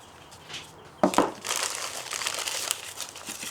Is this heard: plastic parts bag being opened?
yes